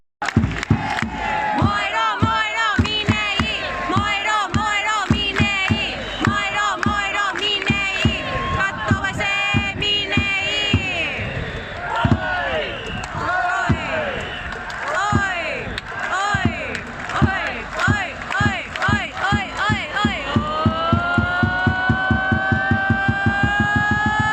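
Japanese baseball fans chant an organized cheer for a player, a loud crowd shouting in rhythmic unison with steady beating, the chant speeding into a quick regular pulse near the end.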